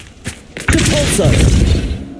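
A Depulso force spell cast in the video game Hogwarts Legacy, a couple of soft knocks followed by a loud, sustained whooshing boom that fades out.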